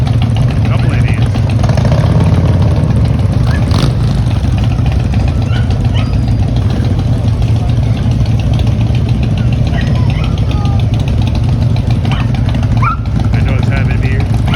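Several motorcycles, Indians among them, idle together at an air show in Cherokee County, North Carolina, a steady low rumble running throughout with people talking over it.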